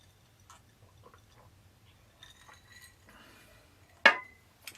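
Glass clinking while tequila is poured, no shot glass used: faint soft taps and rustles, then one sharp, bright clink near the end followed by a smaller tick, close and otherwise quiet.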